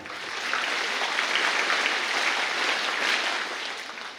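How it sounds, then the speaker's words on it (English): An audience at a school annual sports day valedictory gives a sustained round of applause for the parents, steady dense clapping rising quickly and holding for about four seconds before tapering. "A big round of applause to all your parents."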